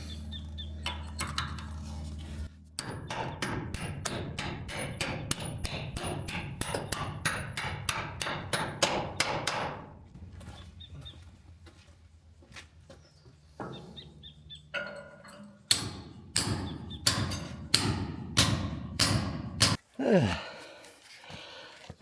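Steel hammer strikes driving anchors into concrete inside a shipping container, a long run of rapid, evenly spaced blows up close, a pause with heavy breathing, then another burst of harder, slower strikes.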